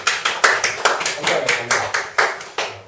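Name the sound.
applause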